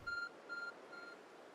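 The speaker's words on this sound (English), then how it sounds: "Phone notification." Three short, evenly spaced electronic beeps from a phone notification ring out faintly and close, thin and tonal against a quiet background with no voices.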